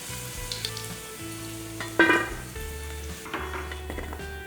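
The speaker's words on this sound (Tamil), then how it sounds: "எண்ணெய் கொஞ்சம் காஞ்சிருச்சு இதிலே சேர்த்துக்கலாம் பாருங்கள் ஒன்றரை இன்ச் அளவுக்கு இஞ்சியும் எடுத்துருக்கேன் இதையும் அதில் சேர்த்துக்குவோம்" Fresh ginger sizzles steadily in hot oil in a pan for a tomato egg gravy, with a brief clatter of stirring partway through. The sound is close and moderate, and nobody speaks.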